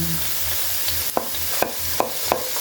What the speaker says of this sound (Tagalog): Isunod natin kaagad ang ating sibuyas. Ayan, sangkot sa lang. Konting-konti lang yung mantika.